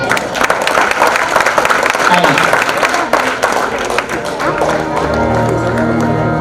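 Loud applause from the audience at an award ceremony in Mumbai, a dense wash of clapping that is joined by speech and music toward the end.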